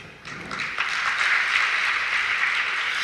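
An audience claps at a speech event, the applause swelling within the first moment into a steady, dense wash of hands that continues to the end.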